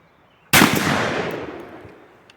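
A single sharp shot from an Armsan Phenoma air rifle cracks out loudly, then its echo rolls away and fades over about two seconds.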